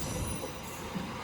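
Blambangan passenger train running on the Jakarta to Banyuwangi line, a steady low rumble with faint wheel noise, continuous and fairly quiet throughout, with no talking.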